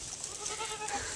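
Cashmere, Boer and Spanish cross goat bleating once, a short, faint wavering call on a farm with no talking.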